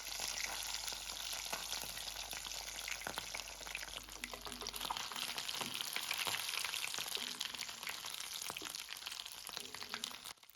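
Steady frying sizzle as a chunk of fat melts in hot oil in a pan, with occasional scraping stirs over the continuous crackle and no talk.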